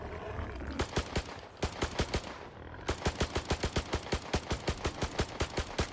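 Rapid bursts of automatic gunfire aimed at a pig in the video game S.T.A.L.K.E.R. 2, sharp evenly spaced shots in two long volleys separated by a brief pause, loud and close with no talk.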